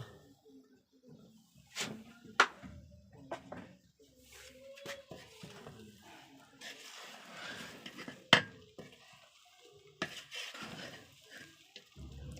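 Chicken biryani made in tehari style is sprinkled and covered with a pot lid: faint rustling and scattering, with several sharp metallic clinks and taps of the lid against the pot, in a quiet kitchen.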